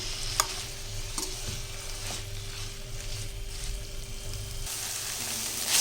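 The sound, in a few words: sautéing manathakkali greens with onion and tomato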